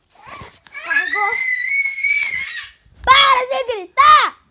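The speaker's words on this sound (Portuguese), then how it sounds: "Para de gritar!" A young child screams in long, high-pitched bursts that rise and fall, with a brief gap before two more shrill, near cries close to the listener.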